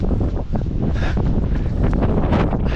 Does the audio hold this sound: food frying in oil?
no